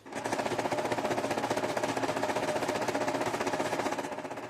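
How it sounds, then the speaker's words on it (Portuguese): A sewing machine running a triple straight stitch along a narrow hem, a steady fast mechanical chatter with dense rhythmic needle pulses, loud and close, continuous for the whole stretch and fading slightly at the end. "Vamos fazer um ponto reto triplo."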